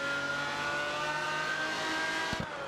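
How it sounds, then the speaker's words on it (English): Car engine running with a steady, even drone that suggests two engines humming together, constant in level with a brief low thump near the end. "I feel like I hear two engines."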